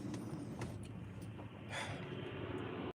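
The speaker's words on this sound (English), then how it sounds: "truck running this whole time" A truck engine idles in a low, continuous rumble, quiet and constant throughout.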